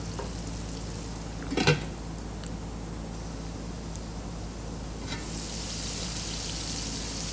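Tomatoes, green chilies and masala fry in a pan with a soft, steady sizzle, one sharp clink of a spoon against the pot, and the hiss swelling a little louder near the end.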